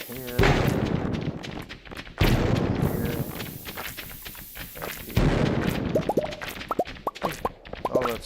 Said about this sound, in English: let's go ahead and bomb here